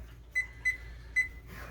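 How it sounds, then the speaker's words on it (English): Three short electronic beeps from an oven timer being set for 55 minutes, evenly spaced then a pause, clear and close in a quiet room. "I will hit that timer for 55 minutes"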